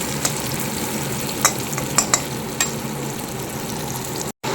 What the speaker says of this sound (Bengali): আলু জিরে ফোড়ন দিলাম, ফোড়ন দিয়ে পেঁয়াজ দিয়েছি।